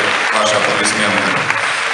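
An audience claps together at a creative evening with the Strizhenov family, a dense, even stretch of applause that sounds close and fills the whole moment.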